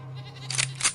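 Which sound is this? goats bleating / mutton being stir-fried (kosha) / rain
goats bleating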